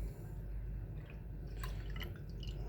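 Milk poured into a Nespresso Aeroccino 4 frother, a soft continuous liquid trickle with a few brief splashy drips, close and quiet, with no talk.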